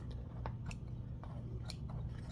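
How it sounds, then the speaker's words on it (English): A few sharp scissor snips, crisp and close, trimming loose embroidery threads, spaced irregularly over a low steady hum. "I usually take my scissors"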